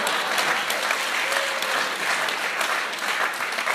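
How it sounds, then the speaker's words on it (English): A comedy show audience applauds a performer with dense, steady clapping that fills the room at an even level for several seconds, with no talk over it. "Let's give a round of applause for this guy."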